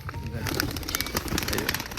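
Pigeons coo softly and steadily nearby as a male courts a female, amid a busy background of other chirps and rustling.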